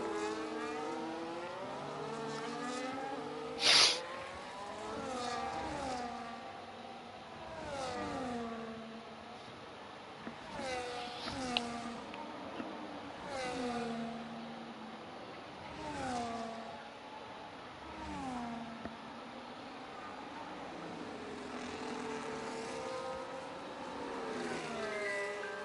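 Race cars lapping the Zandvoort circuit in a sim racing game, engines revving up and down through gear shifts in a steady cycle, one car close with others faintly around it, no voices.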